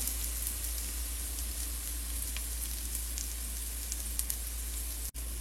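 Bitter gourd pieces frying on a low flame produce a soft, steady sizzle and crackle with scattered light pops, continuous and close, over a low stove hum, no voices.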